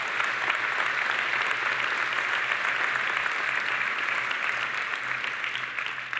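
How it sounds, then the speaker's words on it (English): A large keynote audience at the Data + AI World Tour in London applauds steadily for the speakers, a dense, even wash of clapping that fades slightly toward the end. "So please do bring your hands together for that."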